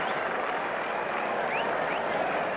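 Crowd applause at Lord's during the 1990 England v India Test, greeting Kapil Dev: a steady, dense wash of clapping that holds evenly from start to finish with no voices standing out.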